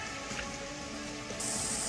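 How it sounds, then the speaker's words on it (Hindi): Steady heavy monsoon rain falls in Gariyaband, a dense continuous hiss that brightens slightly toward the end, with no voices. "गरियाबंद में भी तेज बारिश की वजह से सड़कें पानी पानी दिखाई दे रही हैं।"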